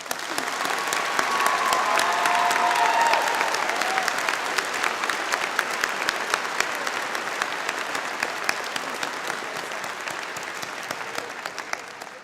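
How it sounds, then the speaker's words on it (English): A large audience at a university spring convocation ceremony breaks into sustained applause, a dense, even wash of many hands clapping that holds steady for the whole stretch, with a brief bright whistle-like tone early on. "Please join me now in acknowledging them with a round of applause."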